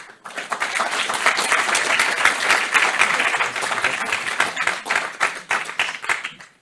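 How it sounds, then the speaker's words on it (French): Audience clapping after a French round-table discussion, lively applause with distinct individual claps that swells, holds for several seconds and then thins out. "je crois qu'on peut les applaudir"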